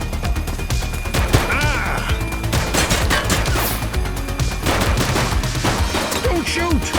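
Gunfire rattles in The Precinct video game, a loud, dense stretch of rapid shots and automatic bursts with crashing impacts, mixed with shouting voices and background game sounds throughout.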